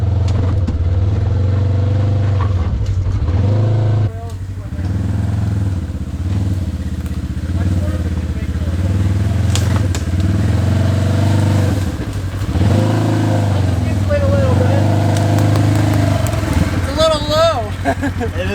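A Polaris RZR 900 Trail Edition side-by-side climbs a trail obstacle in four-wheel drive, its engine droning steadily and swelling in short revs, loud and close, with people talking over it.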